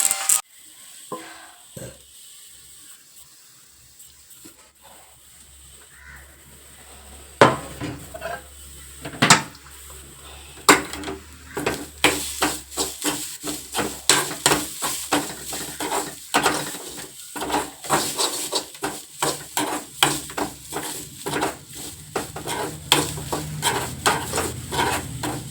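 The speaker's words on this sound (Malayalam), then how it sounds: "കരിവേപ്പില ഇപ്പോൾ ആഡ് ചെയ്ത് കൊടുത്തിട്ടുണ്ട്. അത് മിക്സ് ചെയ്യാം." Curry leaves are stirred into a vegetable thoran frying in a pan in a Kerala home kitchen. A soft sizzle is heard at first, then it becomes busier with repeated scraping, clattering stirring strokes.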